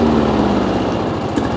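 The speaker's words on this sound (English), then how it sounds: "there's the active lawnmower now all up and running" Active 5800 lawnmower with its engine running steadily, a loud close buzzing drone with a fast regular pulse, alone without voices.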